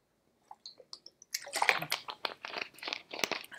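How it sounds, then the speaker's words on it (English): A woman takes a drink of water: a few faint clinks and a pause, then a run of close gulps and swallows, with no talk. "Let me get a drink of water"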